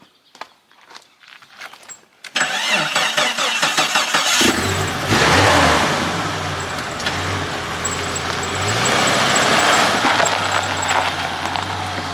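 First start of a Jeep 5.0 stroker engine: after a few seconds of quiet footsteps and shuffling, the starter cranks and the engine fires, settling into a loud, steady rumbling idle that swells and revs briefly, close by.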